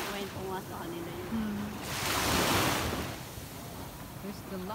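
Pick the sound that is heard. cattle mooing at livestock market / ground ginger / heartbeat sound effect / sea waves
sea waves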